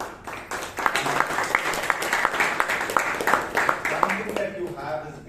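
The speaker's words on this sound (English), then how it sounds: "huge round of applause for that" A small online Toastmasters meeting audience claps in a brief, scattered burst over a few seconds, the claps fairly distinct and uneven, with talking layered over them.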